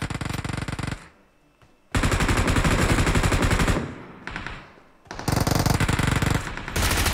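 Sustained automatic rifle fire in PUBG, loud and dense, in long bursts separated by brief pauses.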